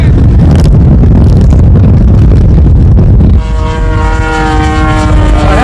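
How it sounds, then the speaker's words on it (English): A radio-controlled model Focke-Wulf 190, a World War II German fighter, roars past with a loud, steady engine drone under heavy wind buffeting, the pitch shifting into a sustained tonal whine as it flies by. "A Focke-Wulf 190, a World War II fighter plane made by the Germans"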